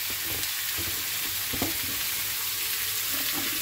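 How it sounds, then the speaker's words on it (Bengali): Onions sizzle and fry steadily in hot oil in a kadai (wok) for chicken biryani, a continuous close hiss with a few faint clinks and stirring knocks, and no voices. "এবার আমি চিকেনটা বসিয়ে দেব। তার জন্য আমি পেঁয়াজগুলো দিয়ে দিচ্ছি"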